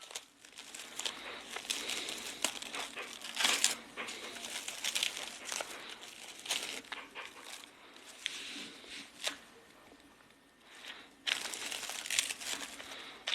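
Crinkly plastic delivery packaging holding mussels is torn and opened, with steady rustling and crumpling bursts and sharp crackles throughout, close to the listener and loud.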